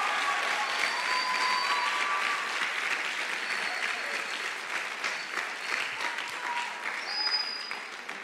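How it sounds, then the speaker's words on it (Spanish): Church audience applauding its pastors, a dense, steady wash of many hands clapping at moderate distance, sustained throughout without any voices over it. "puedes dar un fuerte aplauso."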